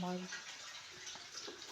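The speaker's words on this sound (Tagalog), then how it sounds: "Ang ingay ng daloy ng aming tubig kasi nag-iigib na naman kami" A tap runs steadily during a morning routine while water is fetched and stored, a faint, continuous hissing flow heard from a little distance.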